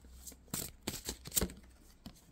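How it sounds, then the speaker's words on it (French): Tarot cards shuffled and drawn by hand: a few short, crisp riffles and slaps in separate bursts, close and quiet, with no talking. "Je commence à tirer les cartes"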